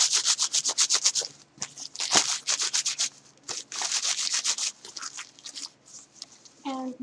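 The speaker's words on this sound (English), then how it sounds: "I'm rubbing it together." Crumpled advertisement paper is rubbed together between the hands in quick rhythmic scratchy strokes, close and moderately loud, pausing briefly before more rubbing, with a short voice at the end.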